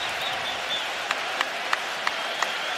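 A Raptors crowd at a 2019 NBA Finals game cheers and applauds in a broad, steady wash heard from a distance, with a few sharp claps standing out near the end.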